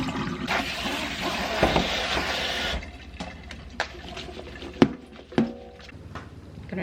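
Tap water runs steadily over blueberries that were soaked in vinegar and water, a broad rushing wash for about three seconds, then lighter splashing with scattered clicks and knocks of berries and a colander.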